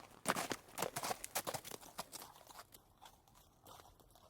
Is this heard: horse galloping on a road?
yes